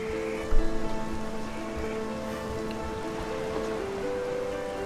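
Steady rain patters in the Child of Light video game world, a soft, constant hiss of falling drops heard under sustained musical tones, with one brief thump near the start.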